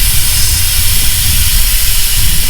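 Air hisses loudly and continuously from a tyre being deflated down to 10 psi, a close, steady rushing hiss with no talk over it.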